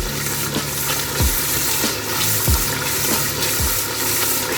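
Onions frying in oil for a halwa puri chana breakfast, a steady close sizzle with a few scraping stir strokes and a faint watery trickle in the background, no talking.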